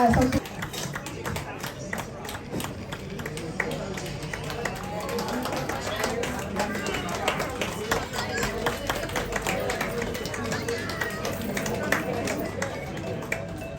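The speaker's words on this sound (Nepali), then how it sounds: "जोरदार ताली बजाइदिनु होला।" An audience at a Magar women's association gathering claps in a sustained, dense patter for over ten seconds. A voice talks over the applause on a loudspeaker.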